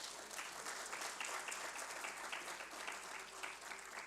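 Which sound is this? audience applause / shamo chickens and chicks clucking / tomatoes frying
audience applause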